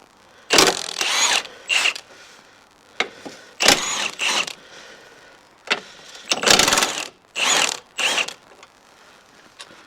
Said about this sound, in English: this is going to be a 15 millimeter for these 3 bolts